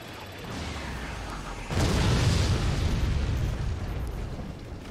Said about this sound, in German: die Kanone explodiert gleich, das ist das Problem.